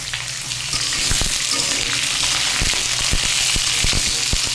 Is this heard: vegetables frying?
yes